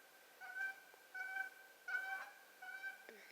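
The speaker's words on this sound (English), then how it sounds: "Canadian geese overhead." Canada geese honk overhead outdoors, four short clustered bursts of nasal calls at a distance, fairly faint against a quiet background.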